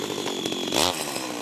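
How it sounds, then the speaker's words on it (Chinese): A chainsaw cuts into a giant, six-storey-tall tree whose roots have grown into an old house, the engine snarling loud and close with rising revving bursts. "电锯拿起来嘎嘎叫"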